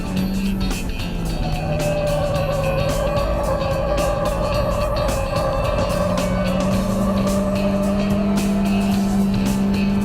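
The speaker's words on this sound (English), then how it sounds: "Listen to those tyres complaining, but they're absolutely steady." High performance car tyres squeal on a track in a sustained, shrill whine over a loud engine roar, close by and continuous throughout.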